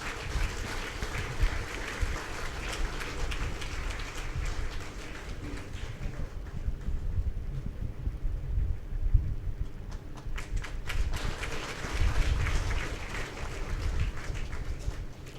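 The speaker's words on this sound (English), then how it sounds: "Please, a huge round of applause," Applause at a felicitation ceremony at an institute, scattered crowd clapping that fades midway and then swells again, with some background noise and no clear speech.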